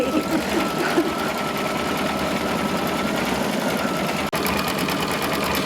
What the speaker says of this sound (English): Now we're just doing the cover stitch after we trim the flower